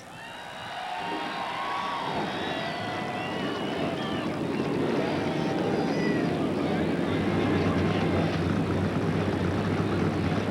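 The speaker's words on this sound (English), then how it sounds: "Gentlemen, start your engines." NASCAR Busch Series race cars firing up at Rockingham for the 1999 K-Mart 200, a field of engines building into a loud, sustained roar with a rising crowd and broad trackside din.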